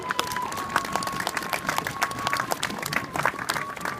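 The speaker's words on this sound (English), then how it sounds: "So a big round of applause for those two." An audience at the opening of the pit pony stables at Beamish Museum claps in a steady, fairly quiet burst of applause, with dense overlapping hand claps throughout.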